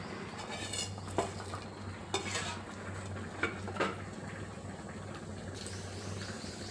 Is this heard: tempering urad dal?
yes